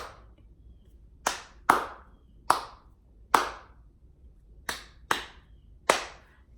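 Children clapping a counted rhythm in a music classroom lesson on dots, ties and syncopation: seven sharp, fairly close claps in an uneven pattern, with quiet gaps between them and no talking.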